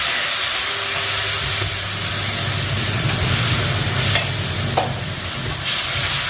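Tomato puree frying in a hot pan, a loud, steady sizzle and hiss with faint stirring scrapes, close and continuous without talk.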